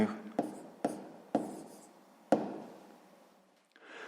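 Pen strokes on paper while a math answer is written down, with a few sharp taps between soft scratching, quiet and close.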